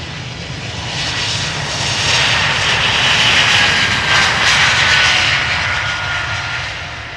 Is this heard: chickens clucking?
no